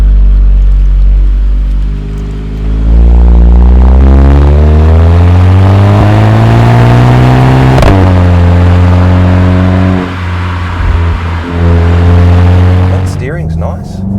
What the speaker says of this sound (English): What do you think about the exhaust note?